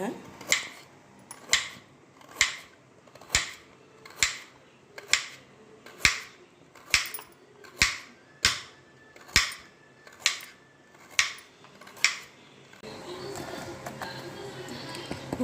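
Knife chopping carrot on a cutting board for carrot kesari, about fourteen sharp, evenly spaced cuts close up, followed by a quieter rustling stretch.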